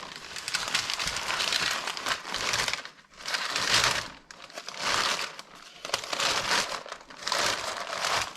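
A plastic bag crinkles and rustles in repeated close, loud bursts with short pauses as focaccia dough is placed inside it.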